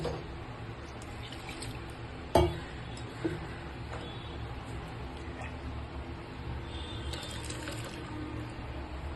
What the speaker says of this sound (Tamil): நல்லா தண்ணி ஊற்றி இந்த மிக்சி ஜாரில் இருக்கிறதெல்லாம் அலசி ஊற்றிக்கலாம்